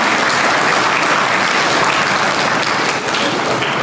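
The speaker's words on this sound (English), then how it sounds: "Can we have a huge, loud, thunderstorm round of applause for everyone?" At a St. Peter's Convent School debate on gender equality, a large audience gives the participants loud, sustained applause, a dense continuous roar of clapping that holds steady throughout.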